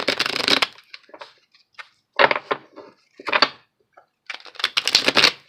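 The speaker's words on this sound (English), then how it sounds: "one more shuffle and we will cut and draw 3 cards" Tarot cards being shuffled by hand in several quick riffling bursts separated by short pauses and soft taps, close and crisp, no talking.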